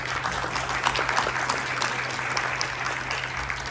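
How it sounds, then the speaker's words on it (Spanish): Audience applause at a book presentation on Rafael and Celestina Cordero Molina, a steady, dense patter of many hands clapping together, fairly soft and even throughout with no voices over it. "un aplauso para todos"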